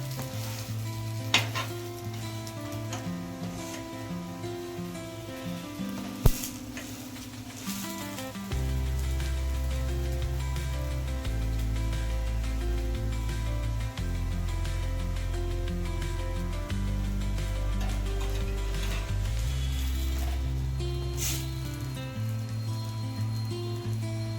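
A besan tomato omelette roasts in a hot pan, sizzling steadily for the full stretch with occasional faint scrapes and taps near the start, the frying hiss growing fuller and constant midway, no voices.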